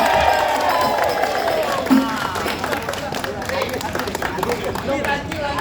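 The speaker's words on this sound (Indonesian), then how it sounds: "Para hadirin tepuk tangan." An audience claps and cheers at a comic Betawi palang pintu performance held at a company's Indonesian Independence Day celebration. Scattered clapping and crowd noise sit under loud talk from the performers.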